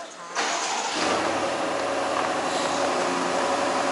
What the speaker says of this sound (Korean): 어 시동 걸리는구나.